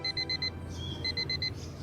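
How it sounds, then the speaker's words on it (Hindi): An alarm clock rings in rapid bursts of bright electronic beeps, two rhythmic groups of four pulses separated by a short warbling gap, close and clear with no talking. "अलार्म बजा तो एहसास हुआ कि सिर्फ 24 घंटे बचे थे आयुष के आने में"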